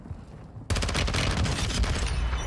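Shotgun fire in Modern Warfare 2 on Ashika Island: after a quiet opening, a loud, dense burst of gunfire erupts and continues in rapid, overlapping shots with booming low end until the end.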